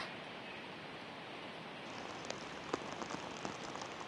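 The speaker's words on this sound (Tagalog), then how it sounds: "patuloy pa ring nararanasan ang malakas na pag-ulan dito sa Baguio City at Benguet" Heavy rain falls in Baguio City as a soft, constant hiss, with a few scattered drops tapping on a nearby surface toward the end.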